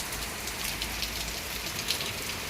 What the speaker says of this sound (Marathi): बघा किती पाऊस पडतोय